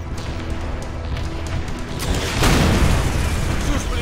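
A loud rocket explosion booms out against tanks midway through a dense, noisy Call of Duty: World at War battle, with rumbling blasts and clatter continuing underneath.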